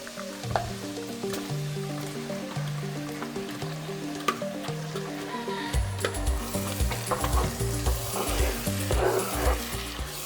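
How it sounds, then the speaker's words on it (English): Locust beans frying in melted palm oil give off a steady, close sizzle that grows busier in the second half, heard beneath a tonal musical backing. "let it melt, then add your locust beans to fry for about a minute before adding your pepper blend"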